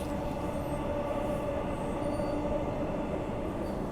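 A Transperth B-series electric passenger train runs steadily on the line between Perth and Butler, a continuous loud rumble of wheels and motors with a faint whine, no horn or voices.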